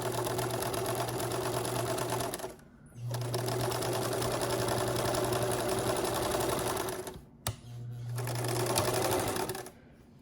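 A sewing machine stitches a channel into a homemade fabric face mask, running in steady bursts with two short pauses between runs.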